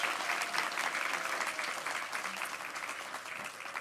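Clapping from the audience at a children's book awards ceremony for performers from a school for the deaf: dense, continuous applause from a large room, steady throughout and heard at moderate distance.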